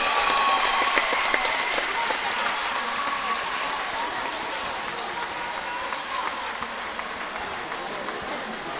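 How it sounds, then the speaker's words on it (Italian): Spectators at a Serie A2 roller hockey match between Roller Matera and Sarzana applaud in an arena, a broad sustained clatter of clapping with crowd noise, while a commentator talks over it. "Applausi."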